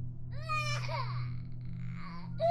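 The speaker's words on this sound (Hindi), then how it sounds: "बच्चे के रोने की आवाज तेज हो रही थी।" An infant's wailing cry used as a horror-story sound effect: rising and falling sobbing wails in several bursts, moderately loud over a steady low droning hum.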